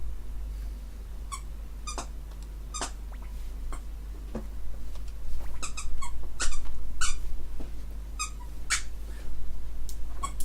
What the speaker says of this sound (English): if you're hearing squeaking, that's my dog